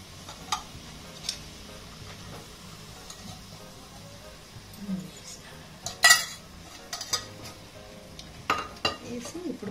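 Chicken biryani ingredients with ghee and oil in a pot, a low sizzle under scattered sharp clinks and scrapes of a metal spoon stirring, close and intermittent.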